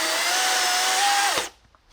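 A DeWalt DCM575N 54V brushless cordless chainsaw whines loudly through a 290 mm thick tree trunk at a steady pitch for over a second, then cuts off abruptly as the blade finishes, leaving near silence.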